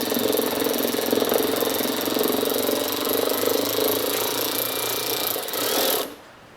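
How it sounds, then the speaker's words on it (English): A Ryobi power ratchet working on an Audi SQ5 during an air filter install, giving a continuous close rattling buzz that runs for about six seconds before cutting off. "Got the old Ryobi ratchet there."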